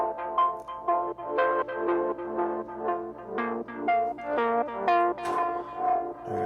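A soloed synthesizer preset with effects from a chillwave, 80s-and-90s style track plays a bright, echoing melodic line of sustained tones with rhythmic swells, heard alone without voices.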